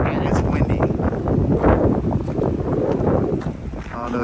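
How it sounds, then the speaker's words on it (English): Strong wind gusting through trees outdoors, a loud, rough, continuous rush with heavy buffeting on the microphone. "It's hot and it's windy."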